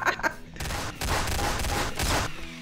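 Rapid gunfire in Garry's Mod as players shoot at a bomb: a dense burst of shots fired in quick succession, loud and close, lasting a couple of seconds.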